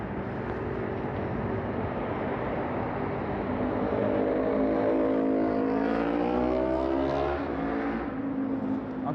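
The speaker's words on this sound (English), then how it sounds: "I'm sure you could definitely hear that motorcycle that just went by" A motorcycle passes along the Las Vegas Strip on a weekday morning, its engine note rising and shifting in pitch as it goes by over a steady traffic din, fairly close and continuous throughout.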